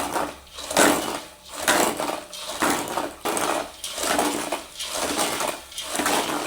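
A ladle scoops roasted chickpeas out of hot sand, with repeated rough, gritty scraping and rattling strokes about every second, close and fairly loud.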